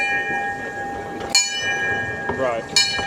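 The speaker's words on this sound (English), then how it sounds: "I'll shut up so you can hear the bell." A steam locomotive bell on the Ffestiniog Railway, on James Spooner, the newest engine built at Boston Lodge, rings with two sharp strikes about a second and a half apart, its sustained metallic tones hanging in the air over faint crowd noise.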